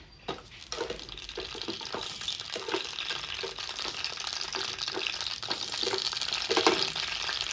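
Green chillies sizzle in hot oil in a kadai on the stove, a continuous crackling fry with frequent sharp pops and spatters at close range.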